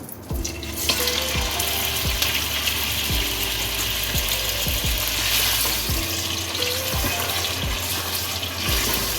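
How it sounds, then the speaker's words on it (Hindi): Half a kilo of chicken pieces frying in hot ghee in a karahi for white chicken karahi, a loud steady sizzle with repeated low scraping thumps of stirring throughout, no voices. "जब घी गर्म हो तो इसमें 500 ग्राम्स चिकन वो ऐड कर दें।"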